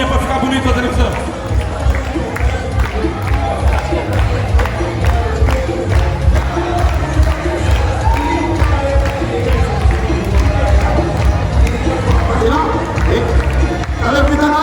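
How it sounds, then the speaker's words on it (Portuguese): A studio audience at a Brazilian viola music TV show shouts and cheers loudly and continuously, a dense crowd roar with scattered clapping that holds steady throughout. "Cadê o grito da galera aí?"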